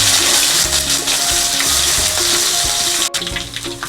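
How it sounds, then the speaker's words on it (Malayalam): Crushed ginger and garlic fry in hot oil for a tapioca and prawn dish, a loud close sizzle with stirring scrapes underneath. A brief cut near the end breaks the frying before it resumes. "ഇനി നല്ല മൂക്കുന്നത് വരെ അതൊന്ന് ഇളക്കി കൊടുക്കുക"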